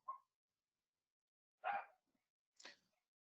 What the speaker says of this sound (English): I'm sorry if you hear my dog barking in the background.